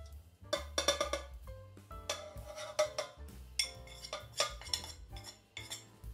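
A metal spoon clinks and scrapes steadily against a bowl while sugar and seasonings are mixed together, a busy run of close, bright taps with no talking.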